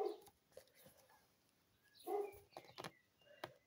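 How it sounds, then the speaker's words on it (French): A neighbour's agitated dog barks in the distance, giving a few faint, scattered barks and yips over quiet ambient noise, with no talk. "Le chien du voisin qui s'énerve"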